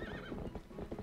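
Horse hooves clip-clop in a quick, even rhythm in the video game Zelda Twilight Princess HD, with a short neigh woven in, all fairly quiet and without speech.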